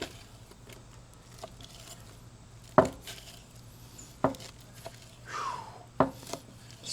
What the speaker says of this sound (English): Let's go ahead and just give it a nice slice down the middle.